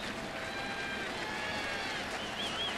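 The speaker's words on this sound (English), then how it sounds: "Crowd has come alive here." Baseball stadium crowd during a Reds at Cardinals game in St. Louis, a broad, fairly faint roar of fans building in the distance, steady throughout with a whistle-like tone near the end.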